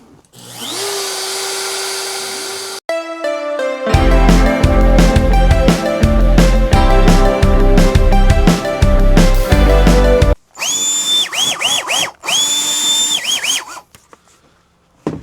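A CNC spindle whines steadily while the cutter mills a pocket in wood in loud, rhythmic bursts, with a vacuum roaring in short stretches near the end.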